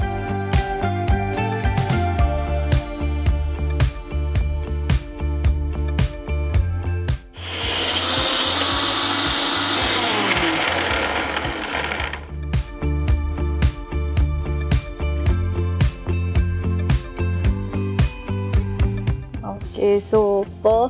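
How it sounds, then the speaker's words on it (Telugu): A mixer grinder whirs loudly and steadily for several seconds, blending green peas, chilies, garlic, ginger and coriander into a paste, set between stretches of background music. "ఇవన్నీ మిక్సీ పట్టుకోవాలి."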